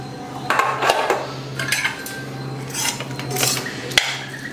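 Pots and utensils clatter and clink close by in a home kitchen as a pressure cooker of cooked dal is opened, scattered metallic knocks and scrapes over a steady hum.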